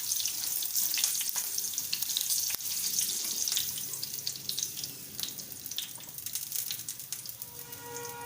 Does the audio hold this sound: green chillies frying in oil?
yes